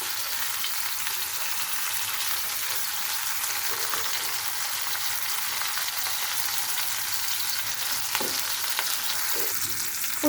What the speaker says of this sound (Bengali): প্রথমে 10 মিনিট এভাবে চুলার আঁচটা মিডিয়ামে রেখে শাসলিটা ভেজে নিতে হবে।